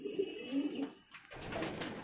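Soft, low cooing of pigeons in the morning, a few repeated throaty calls close by, with faint chirping from smaller birds in the background.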